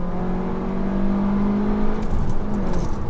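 Seat Leon Cupra 290 engine pulling hard in second gear toward 6,500 RPM, a loud rising drone heard from inside the car with a steady, rough tone.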